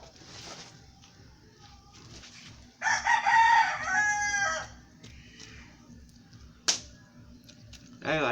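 A pet farmyard rooster crows once, loud and nearby, in the middle of the clip. Brief clucks and sharp noises come before and after it against quiet surroundings.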